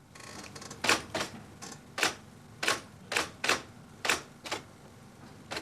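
A manual typewriter typed slowly with the feet, giving about ten separate sharp key strikes at uneven intervals, clear and close against a faint hiss.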